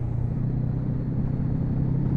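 Honda NX500 adventure motorcycle cruising in fifth gear, its engine a steady, continuous low drone with constant road rumble and no speech.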